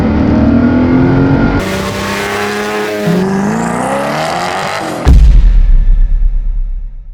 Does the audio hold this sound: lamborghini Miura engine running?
yes